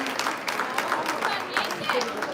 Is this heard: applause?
yes